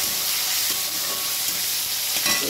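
Chopped tomato hitting a hot frying pan, a steady close, loud sizzle with broad hiss filling the whole stretch and light stirring scrapes near the end, no voices.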